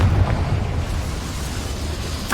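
A Confringo blasting spell going off in Hogwarts Legacy, a deep rumbling boom with a low heavy burst at the start that decays into a long crackling, roaring tail, with a second sharp hit right at the end.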